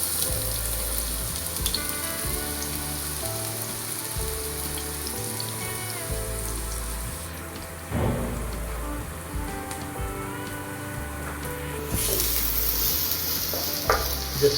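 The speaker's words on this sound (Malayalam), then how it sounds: "ജസ്റ്റ് ഒന്ന് ഇളക്കി കൊടുക്കുകയാണ്." Onion, chili, ginger and garlic frying in coconut oil in a pan, a steady close sizzle with scraping and clinking as the mix is stirred, and no talking.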